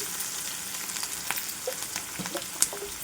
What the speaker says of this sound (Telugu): ఇది కూడా చక్కగా అటు ఇటు తిప్పుకుంటూ ఇప్పుడు ఫ్రై చేసుకోవాలి